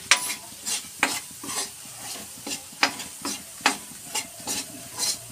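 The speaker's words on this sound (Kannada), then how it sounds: "ಈಗ ಈ ತುಪ್ಪ ಏನಿದೆ ಅದಕ್ಕೇನೆ 1 ಕಪ್ ಗೋಧಿ ಹಿಟ್ಟು ಹಾಕೋತಿದ್ದೀನಿ ಇದನ್ನ ಈ ತುಪ್ಪದಲ್ಲಿ ಫುಲ್ ಹುರ್ಕೋಬೇಕು" Wheat flour roasting in ghee in a pan, with a soft steady sizzle under repeated scraping stirs of a spoon roughly every half second, close and moderately loud, no talking.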